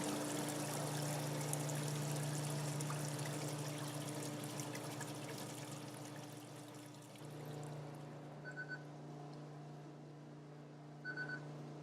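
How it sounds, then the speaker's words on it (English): Fryer filter pump motor running while jets wash down the bottom of the pot, a steady rushing, pouring liquid sound with a low hum that eases, followed by a few faint beeps. "the fryer automatically turns on the filter pump motor, and it has jets on the bottom of the pot to wash down the bottom"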